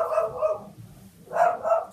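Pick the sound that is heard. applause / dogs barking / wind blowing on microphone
dogs barking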